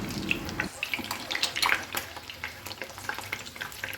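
An egg frying in oil in a pan gives a steady crackling sizzle with scattered sharp pops, close up and moderately loud, with no one talking.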